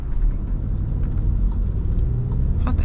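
A Skoda Superb accelerates with a steady, close engine and road rumble that holds a continuous low drone throughout.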